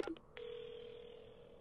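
A telephone in the horror game Paranormasight dials an emergency number: a few quick keypad tones followed by a steady, clear dial tone holding alone to the end.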